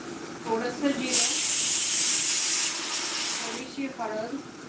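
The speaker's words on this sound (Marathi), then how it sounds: "मी आता कांदा घातले तेल घातलेलं आहे" Chopped onion hitting hot oil in a pan, a sudden loud hiss that holds for a few seconds and then eases, with someone talking briefly before and after it.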